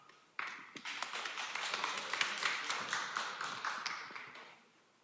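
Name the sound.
audience applause for a conference speaker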